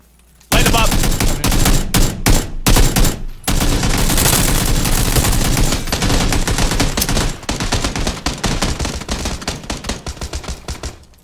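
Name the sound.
gunfire in a video game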